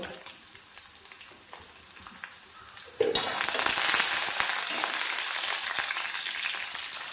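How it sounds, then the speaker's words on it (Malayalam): Ginger dropped into hot oil with curry leaves bursts into a loud, steady sizzle that continues unbroken, following a quieter stretch of light crackling and stirring. "ഇനി ഞാനിതിലേക്ക് ഇഞ്ചി ഇട്ട് കൊടുക്കുക."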